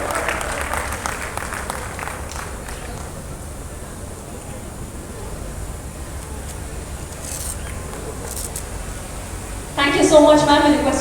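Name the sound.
applause at trailer launch event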